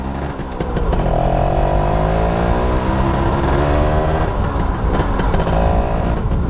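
A stock, unmodified Yamaha F1ZR motorcycle engine runs steadily nearby, a smooth continuous rumble with slight rises in pitch, loud and alone without speech.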